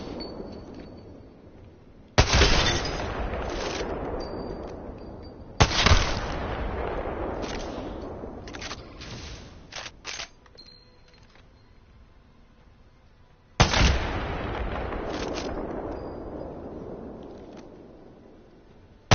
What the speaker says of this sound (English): This big, bad, clunky boy right here is the single most powerful gun in the game